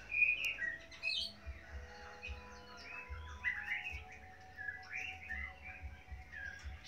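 Caged songbirds at a bird breeding farm in southern Vietnam chirp and whistle in short bright bursts, several calls overlapping at a quiet, moderate distance over faint low background hum.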